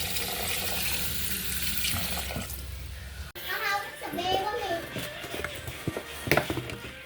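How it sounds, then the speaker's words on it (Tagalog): Water pours into a cooking pot (kasirola) for boiling duck, a steady splashing stream over background noise, with children's voices and kitchen clatter nearby. "Lagyan lang po natin ng katamtamang tubig."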